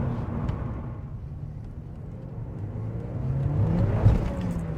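A Porsche 944 Turbo accelerates hard in first gear with heavy wheel spin, its engine note rising loud and close in a continuous surge that peaks near the end.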